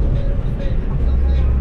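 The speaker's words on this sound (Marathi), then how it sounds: "भाई आपली गाडी चालत आहे बघा" A car drives along a road near Malvan, its steady low engine and road rumble continuous and close, under a man's speech.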